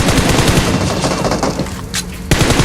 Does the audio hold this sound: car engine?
no